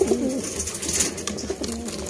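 Sialkoti pigeons coo softly and repeatedly at close range, low throaty calls overlapping briefly with light background rustle and no speech.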